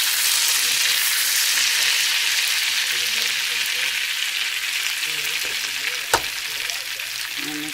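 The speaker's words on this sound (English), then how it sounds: "butter's all melted and I'm just sprinkling in the paprika. Just stir it up a little bit just to mix it in well." Paprika is stirred into melted butter in a pan before potatoes go in for home fries, producing a steady, bright close sizzle with one sharp clack from a utensil near the end.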